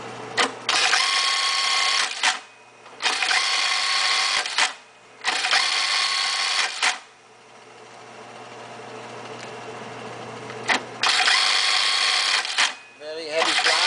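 A Brother LK3-B484S industrial bartack sewing machine, mounted on its table with motor, runs in four loud bursts of about two seconds each, separated by short pauses over a low steady hum.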